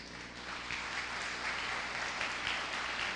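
A church congregation applauds during a sermon on prayer, a soft, continuous wash of clapping heard at a distance for about three seconds.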